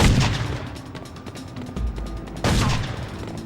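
Video game Made Man combat: loud sniper shots and surrounding gunfire cracking in a rapid cluster, easing off, then another sharp heavy shot near the end, with no talking.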